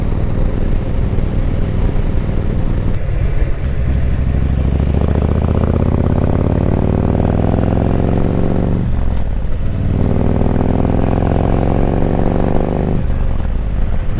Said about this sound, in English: I missed that sound of the Harley.